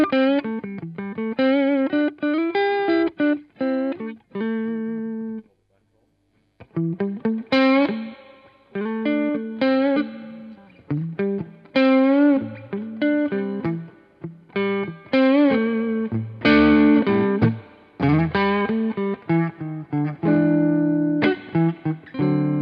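Electric guitar plays bluesy chords and single-note runs through a Marshall Valvestate 40V 8040 amplifier with reverb off, a dry, clean tone, pausing briefly before continuing.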